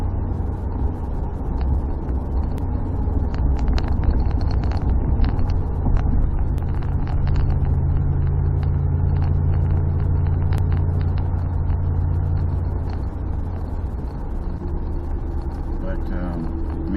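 Dodge Dakota truck, recently fitted with a new rack and pinion, driving along a road with a pronounced crown. A steady low engine and road rumble fills the cab while someone talks over it.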